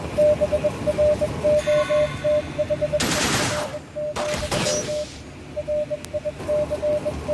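In the Wasteland 2 video game, rapid bursts of pulse rifle and submachine gun fire come through loud and close, broken into short repeated volleys. A steady beeping tone runs underneath, with a couple of sharper blasts in the middle.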